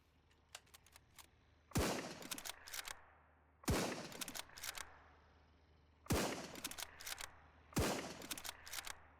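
Four bursts of gunfire in the zombie survival game SurrounDead, loud close shots spaced about two seconds apart, each followed by scattered rapid cracks and a trailing echo, with faint clicks and smaller pops in between.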